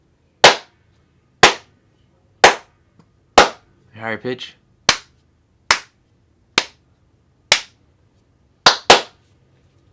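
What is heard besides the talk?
hand claps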